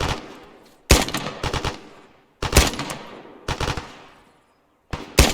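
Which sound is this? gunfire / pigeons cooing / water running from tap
gunfire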